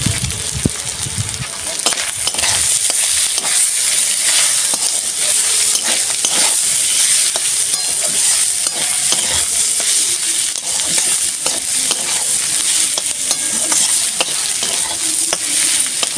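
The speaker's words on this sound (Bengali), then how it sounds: "আমি এইভাবে সুন্দর করে কষিয়ে নিয়েছি" Spice paste with Kashmiri chilli powder, salt and sugar being sautéed for a hilsa head and bitter gourd dish, loud steady sizzling with constant stirring and spatula scraping throughout.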